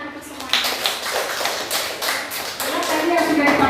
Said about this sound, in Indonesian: Ya, tepuk tangan untuk semua.